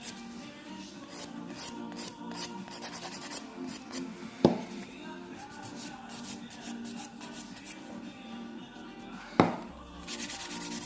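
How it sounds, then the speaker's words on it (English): A nail file rasping back and forth across fingernails in rapid, continuous strokes, close and fairly quiet, with two sharper clicks or taps along the way. "filing."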